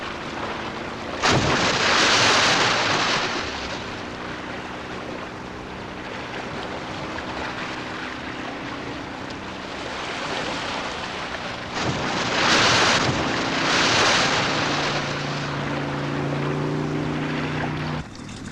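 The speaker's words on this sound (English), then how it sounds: "jumping clear of the water and re-entering with a loud splash" A killer whale leaping clear of the sea lands with heavy crashing splashes, loud and near, breaking through a constant roar of wind and surging water, with no voices.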